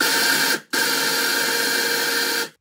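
A blender whirs loudly and steadily as it mixes chickpeas with water for houmous, cutting out for a brief moment, then running on before it stops.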